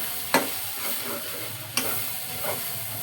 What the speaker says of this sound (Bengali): একটু কষিয়ে রাঁধতেছি